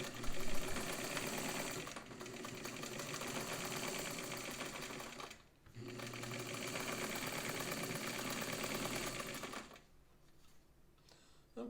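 A heavy-duty Anker zigzag sewing machine runs in long, steady bursts of fast mechanical stitching with a rapid chatter, pausing briefly twice and then falling quieter near the end.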